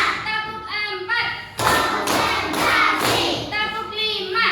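Third-grade primary school pupils clap hands in a counting clap game, with a loud sustained stretch of rapid clapping in the middle framed by talking before and after.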